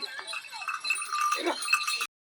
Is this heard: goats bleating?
yes